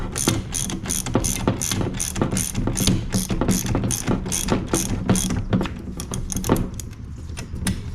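A spring compressor on a Daihatsu Hijet kei truck front strut is tightened with a ratchet, giving a brisk run of close, repeated clicking strokes that slow near the end.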